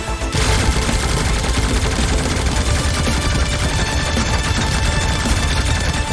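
Spaceship guns in the video game Starpoint Gemini 3 open up after a brief pause and keep firing in a dense, loud, continuous rattle for several seconds, alone without talk.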